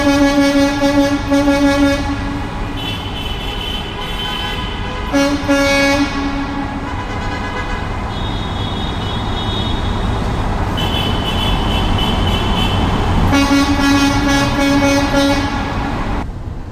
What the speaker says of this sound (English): enjoy some air horn